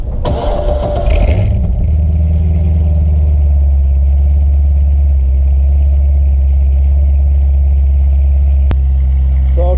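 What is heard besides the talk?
Corvette C6 Z06 cold start with exhaust open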